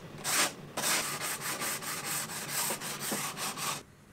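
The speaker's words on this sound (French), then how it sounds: "Et après je ponce." Wood being sanded by hand in steady back-and-forth strokes, a close, rhythmic rasping with no talking.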